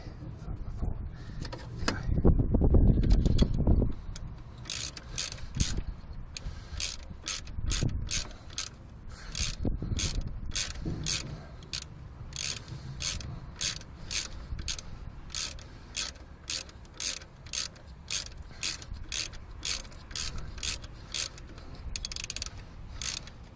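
Close, steady rapid clicking of a ratchet wrench tightening the alternator bolt on a 1997 Subaru, a long run of even pawl ticks after a few seconds of low rumbling handling noise.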